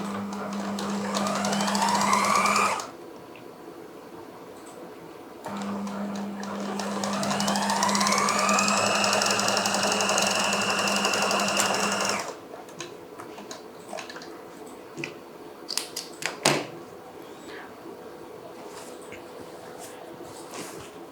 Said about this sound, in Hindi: अब जब ये सिलाई आपने लगानी है तो इस सिलाई को आप फुल आगे तक ले आएं।